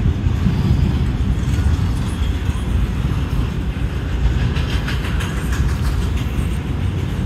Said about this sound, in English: here comes the train on track two, lagging behind.